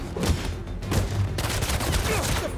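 Enemy gunfire in the Marvel's Spider-Man 2 video game, a dense rattling fusillade of rapid shots filling the whole moment at loud, close level.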